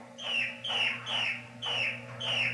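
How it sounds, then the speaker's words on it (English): A bird repeats a bright, descending chirping call five times at an even pace over a low steady hum, moderately near and fairly faint, with no voices over it. "You can hear birds sing."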